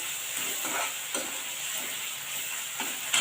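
Onion and tomato sauté in a pan, a continuous close sizzle with soft scraping stirs at intervals, no voices.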